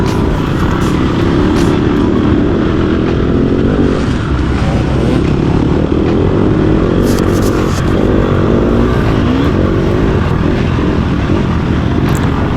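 An offroad racing motorcycle engine is held at full throttle on a track, a loud, close, continuous buzzing roar with slight rises and dips in pitch throughout.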